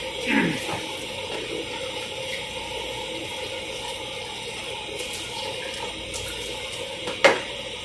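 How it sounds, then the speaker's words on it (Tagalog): Coffee cups are washed by hand under a running tap, a steady hiss of water with light clinks and scrapes of cups, and a sharper knock near the end. "mas maganda pagka kinakamay lang talaga yung hugasan"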